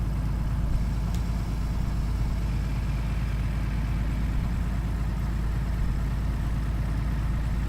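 Low-revving truck engine in the driving game Hard Truck 18 Wheels of Steel, a steady deep drone with a continuous rumble that holds evenly throughout with no talking.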